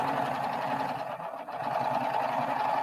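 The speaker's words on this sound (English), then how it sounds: "I'm just going to sew right off the edge and clip" A Baby Lock Sip n Serge serger stitches along a fabric edge, its steady, continuous mechanical whir running close and loud through the whole stretch with only a brief dip midway.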